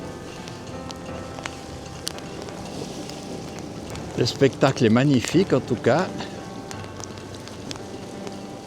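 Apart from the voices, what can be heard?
wind and rain outdoors by a lake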